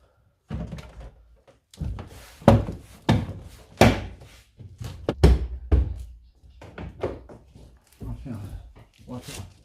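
The door panel of an Audi A4 B8 is refitted: a string of hollow plastic thunks, taps and sharp knocks as clips snap into place, close and fairly loud, with someone talking between the impacts.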